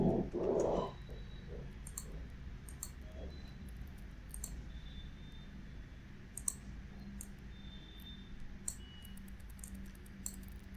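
Computer mouse clicks while working with the CorelDRAW pen tool, sparse sharp single clicks spread across the stretch, close and crisp over faint room noise, after a brief low thump at the start.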